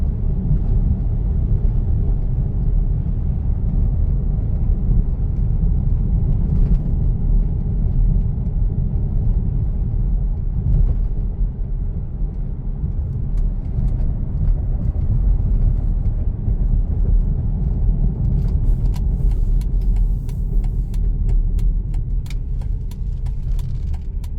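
A 2006 Mercedes-Benz ML500 W164 SUV cruising, heard from inside as a steady low road and engine rumble throughout, with faint light rattles near the end.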